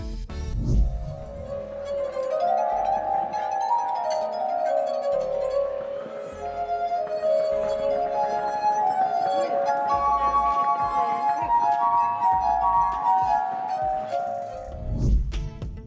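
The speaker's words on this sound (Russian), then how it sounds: "Он играет на хрустальных бокалах." Crystal wine glasses played as a glass harp by a street performer ring out in sustained, shimmering tones, several pitches overlapping and gliding in a continuous melody that holds steady throughout.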